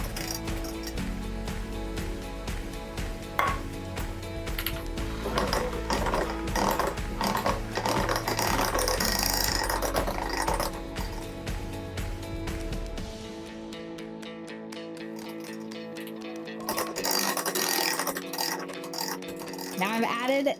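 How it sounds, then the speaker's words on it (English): An electric mixer whirs and rattles through powdered sugar frosting for pumpkin bars, loud and continuous at close range, then stops before a brief restart near the end; a voice talks over it. "So I'm gonna mix this together and let it combine."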